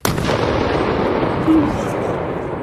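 An old gas cylinder explodes with a sudden, loud blast, followed by a sustained, heavy rumbling roar that stays strong for the remaining seconds.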